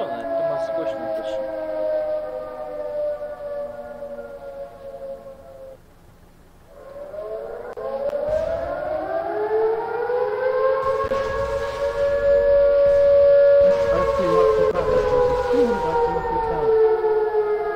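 A wailing civil-defense-style siren in the browser tank game Project Tank rises and falls in long sustained tones, pausing briefly before swelling louder again, with faint voices underneath.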